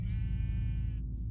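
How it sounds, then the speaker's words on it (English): A single Minecraft sheep lets out one wavering, nasal bleat close by, lasting about a second over a low continuous background rumble. "we found sheep."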